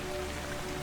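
Light rain falls in a soft, even hiss of drops for a brief moment, with no other sounds.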